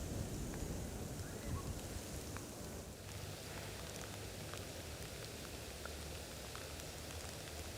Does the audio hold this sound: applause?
no